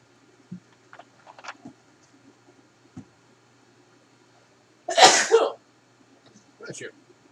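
A single loud, sharp sneeze bursts out nearby after several seconds of faint clicks and small handling noises, followed by a few softer rustling sounds.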